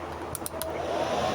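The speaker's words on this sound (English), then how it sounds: "that's a blow dryer that I'm messing with" A blow dryer runs steadily close by, a constant airy whir with a few faint ticks and clicks over it.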